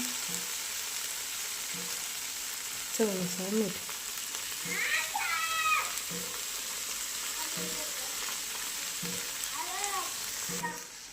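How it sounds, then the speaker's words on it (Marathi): Cluster beans fried in oil with salt being stirred, a constant sizzle under scattered clinks and scrapes of a spoon against the pan, with a few faint voices in the background. "मीठ टाकलं आणि व्यवस्थित हलवून घेतले"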